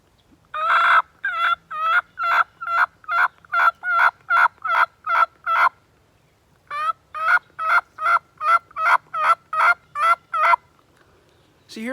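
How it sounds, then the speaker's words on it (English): A turkey yelp made on a mouth call in a slow, drawn-out cadence: two long runs of loud, evenly spaced raspy notes, close up, with a short pause between the runs and no talking. "long, slow, drawled out yelp"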